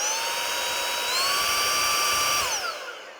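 A Minthouz 17000pa cordless car vacuum cleaner runs with a steady high-pitched motor whine, loud and close, rising slightly in pitch before winding down near the end; no voices.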